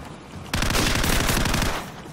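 Rapid automatic gunfire in Call of Duty 4, a loud burst of evenly spaced shots lasting just over a second, preceded and followed by softer game ambience.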